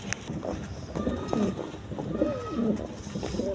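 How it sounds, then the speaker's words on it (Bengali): A pigeon calls in soft, rolling coos, a few short phrases repeating at modest volume close by, with faint background murmur and no clear speech. "এই নটটা ডাকতেছে"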